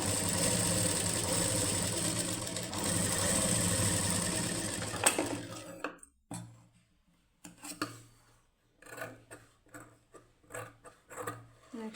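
A sewing machine stitches thread piping onto saree cloth, running in a steady mechanical whir for about six seconds, then stopping and starting in short bursts.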